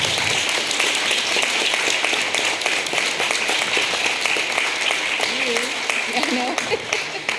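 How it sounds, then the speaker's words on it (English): An audience at a gallery talk for an exhibition claps in a steady round of applause, moderately loud and continuous, with a few voices murmuring underneath toward the end. "Round of applause."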